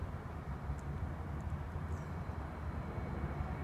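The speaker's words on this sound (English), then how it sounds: "Oh wow, look at this, an airplane. That's WestJet." A WestJet airplane passes overhead near a park in Richmond, a faint, steady broadband roar sitting low in the background without any speech.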